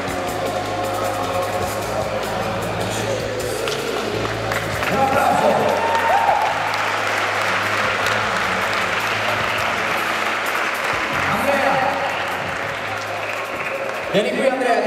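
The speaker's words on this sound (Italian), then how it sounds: "Un applauso!" Applause at an Italian fight night event, loud and sustained across the whole stretch, crowd noise layered in with a steady low hum and voices mixed in underneath.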